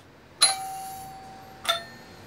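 Two bright doorbell dings ring out about a second apart, each with a short metallic ring that fades, in a quiet room.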